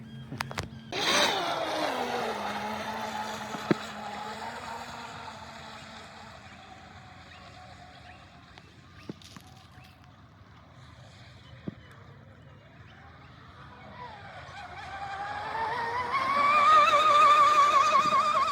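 Blackjack 24 RC speedboat on a 6S setup, its propeller trimmed 20mm with an angle grinder, dropped onto the water; an electric motor whine rises and fades as the boat runs off, then climbs loudly again as it passes back close by.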